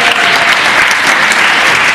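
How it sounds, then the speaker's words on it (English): Loud, sustained applause fills the Virginia General Assembly chamber, a dense wash of clapping from many hands that continues unbroken and close throughout. "That's worth a clap, I think."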